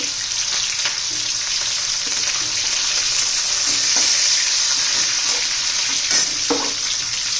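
Sliced onion sautéing in a pan with cumin seeds, garlic and green chilli for an amaranth leaf dish, a steady loud sizzle with occasional scraping stirs, close and continuous with no voices.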